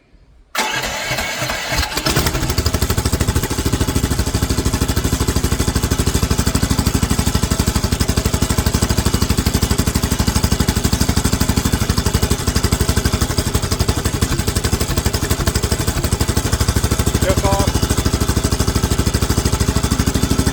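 A mini excavator engine fitted with a stainless steel exhaust and rain flap cranks, catches and settles into a loud, steady running rumble that holds throughout, with no voices.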